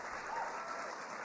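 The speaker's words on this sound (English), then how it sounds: "can we just give another round of applause to the President of the United States for his leadership on this issue?" Audience applause at a White House social media summit hosted by the President, a steady wash of clapping that holds evenly and fairly faint for about a second, with no voices over it.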